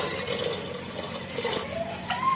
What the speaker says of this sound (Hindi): अब मैं इसमें थोड़ा सा डालूंगी पानी